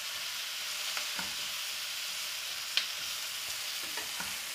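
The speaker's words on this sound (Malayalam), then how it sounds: "ഇത് നമുക്ക് നന്നായി ഒന്ന് വഴറ്റിയെടുക്കണം" Tomatoes are sautéed in a pan with an even hiss of frying, and a few soft stirring taps and one brief clink sound over it. No voices are heard.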